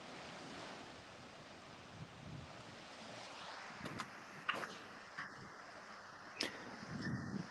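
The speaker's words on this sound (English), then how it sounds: "I couldn't hear you with the winds" Strong wind blows steadily at a beach during a waterspout chase, with surf washing in behind and gusts buffeting the microphone in bursts toward the end.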